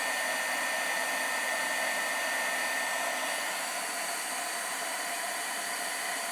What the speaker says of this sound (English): I'm gonna blow this dry